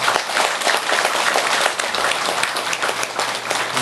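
Audience applauding at a Buddhist temple gathering after a speech, dense steady clapping from a crowd that continues evenly for the full stretch without pause.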